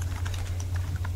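Quick, steady clicks of computer keyboard keys pattering at close range while code is entered, over a low constant hum with no talking.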